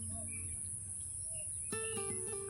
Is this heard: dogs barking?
no